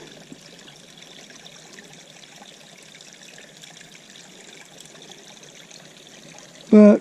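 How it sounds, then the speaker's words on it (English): Stream water trickles over rocks along a woodland trail, a faint, continuous gentle babble that stays steady throughout, then ends with a brief loud bump. "it makes for a nice little sound of the water trickling over the rocks down here"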